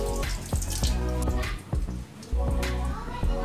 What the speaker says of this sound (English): Wet your elbows to hands under the running water